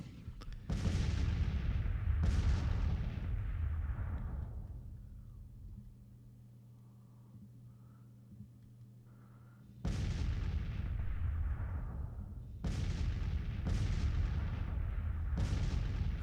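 Howitzer artillery fires in a Civil War strategy video game with several loud booming blasts at irregular intervals, each trailing off in a rumbling decay, and a quieter stretch in the middle.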